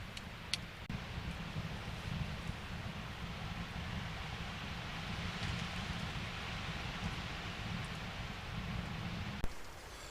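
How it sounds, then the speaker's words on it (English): Rain patters steadily on the roof of a hot tent at a camp. It makes a soft, even hiss for the whole stretch, with a few faint knocks. "I quite enjoy the sound of rain in the top of the tent"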